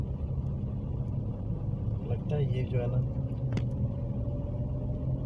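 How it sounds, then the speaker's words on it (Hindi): A car climbing a gentle slope in a housing development near Islamabad gives off a low, truck-like rumble that runs continuously under a voice, with a brief rise in engine noise midway. "मेरी गाड़ी ट्रकों जैसी आवाज़ निकाल रही है"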